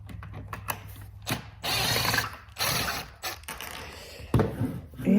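Ratcheting screwdriver turning a loose screw, a series of close clicking ratchet bursts with brief pauses, fairly loud and alone.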